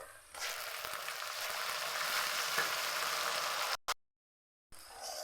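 Ground spice paste frying with curry leaves for a bitter gourd and field bean kara kuzhambu: a steady, bright sizzle and crackle that holds for several seconds, then cuts off abruptly into silence before resuming briefly.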